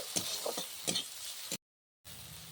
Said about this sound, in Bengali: পেঁয়াজটা হালকা করে ভেজে নিয়েছি এবার দিয়ে দেব টমেটো কুচিটাও